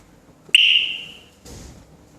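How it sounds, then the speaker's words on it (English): A 110 dB anti-theft alarm unit gives one sharp, loud electronic beep that fades over about a second, followed by a faint softer noise, close by with no talk. "press and hold the A button until you hear the beep sound"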